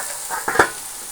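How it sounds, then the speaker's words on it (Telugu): Fish pieces fry in oil in a pan with a steady, close sizzle and a couple of brief stirring clinks partway through. "పీసులు అయితే ఇలాగా ఆయిల్ పోసి ఫ్రై చేసుకోవాలండి"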